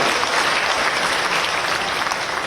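Dense, loud crowd applause at a political rally in Bhopal, a steady wash of many hands clapping together without a break.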